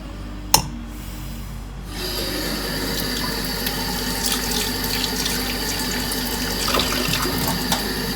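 A kitchen faucet runs steadily into a sink to rinse a spoon, starting after a sharp click and continuing as a close, even stream with light clinks and rubbing.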